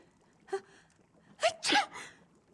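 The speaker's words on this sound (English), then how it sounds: "Flowers make me sneeze, especially daisies." A single sneeze in a video game, The Elder Scrolls Online, preceded by a quick sharp inhale, with a smaller breathy catch a moment earlier; otherwise quiet.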